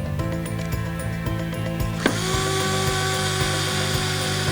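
A power screwdriver drives a screw into a carved wooden birdhouse with a close, loud, continuous whirring buzz and a steady ticking rhythm; the pitch shifts partway through as the screw snugs in.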